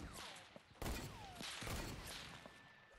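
Gunfire in a video game sniper shootout, a few sharp shots with a heavy blast near the one-second mark, over a steady background wash of game sound.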